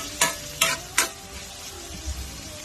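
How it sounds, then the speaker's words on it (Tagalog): Tomatoes are stirred in a frying pan while cooking bangus with tausi, three distinct scraping strokes over a steady sizzle, followed by softer stirring thumps near the end. "Isunod po yung kamatis. Ito. Haluin po ng maigi."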